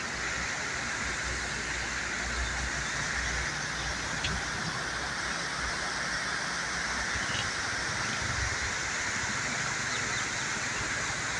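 Canal water pouring into the Chenab river from the north side, a steady broadband rush of flowing water, constant and fairly loud throughout with no break.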